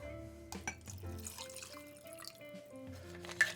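Coconut water pours and trickles into a container for a cocktail, soft splashing and dripping close by, quiet, while faint music plays underneath.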